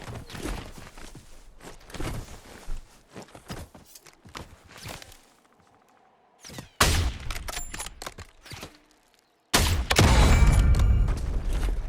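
Gunfire in the video game Call of Duty Warzone, with loud rapid bursts of automatic fire, a quieter stretch, then further heavy volleys up close, along with scattered footsteps.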